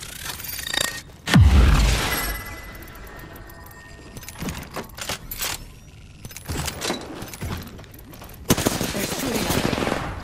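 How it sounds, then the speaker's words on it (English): Gunfire in the Apex Legends video game, with bursts of shots, a loud heavy hit near the start, then scattered rapid firing and impacts through the rest, no speech. "They're shooting at me. Getting shot at."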